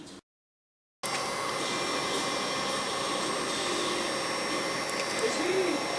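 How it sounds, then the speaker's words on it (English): Heat gun on its low setting blowing over the pins of a plasma TV circuit board, a steady airy roar that starts abruptly after a short silence and holds constant to the end. "So using the low setting of the heat gun, I'm just going to go over these pins."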